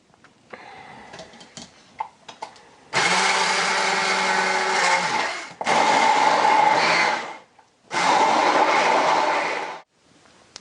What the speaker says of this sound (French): Et je n'ai plus qu'à mixer.